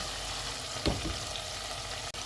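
Masala frying in a pot on a high flame for matka biryani, a steady close sizzle with a brief clatter of stirring partway through, no talk.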